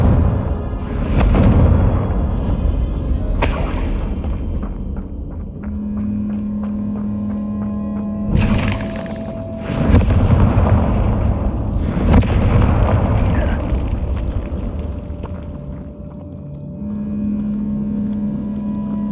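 Confringo blasting spell explosions in Hogwarts Legacy, cast in a decayed catacomb: several loud, deep booming bursts spaced a few seconds apart over a constant low rumbling hum, with no talk.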